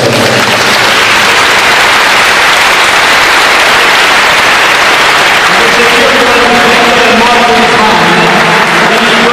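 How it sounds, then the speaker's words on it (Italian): Applause from a concert audience at the Feste del Crocifisso in San Zenone fills the first half as a dense, hissing wash, then thins out under tonal music and voices. "Allora grazie per un altro applauso davvero"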